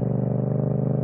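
A Yamaha MT-07 motorcycle engine idles nearby in Abu Dhabi with a steady, even mechanical throb and light pulsing clatter, heard alone for a brief second.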